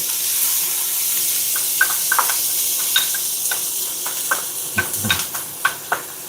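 Chopped onion goes into a hot pan and sizzles with a steady frying hiss, while a wooden spoon stirs and clicks against the pan in sharp, close taps.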